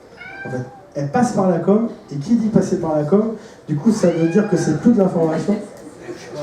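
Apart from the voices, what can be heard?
cat meowing as it wakes up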